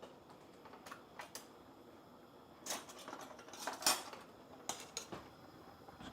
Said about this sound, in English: Let's give these bad boys a stir.